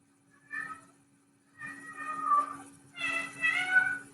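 Cat meowing three times during a yoga class, drawn-out calls of rising length with quiet gaps, fairly close over a faint steady hum.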